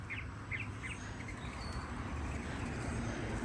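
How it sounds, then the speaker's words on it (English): Short bird chirps repeat a few times early on, faint against a steady low rumble of background noise that continues throughout. "You can hear the birds chirping."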